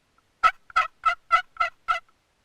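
A wooden box turkey call mimics a gobble in six quick, evenly spaced rattling bursts, close and clear against silence.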